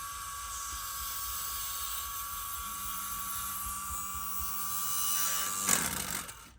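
A motor tool spins at high speed to trim a Tamiya Mini 4WD rubber tire, giving off a steady whine with a high tonal hum. The pitch shifts as the tool bears on the tire and it swells briefly near the end before stopping, with no speech.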